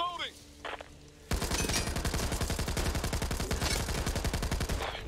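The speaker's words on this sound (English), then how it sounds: "How many sniper shots does he take?" Rapid, loud automatic gunfire from the zombie shooter Back 4 Blood erupts after a brief quieter lead-in, a fast, evenly spaced stream of shots running to the end.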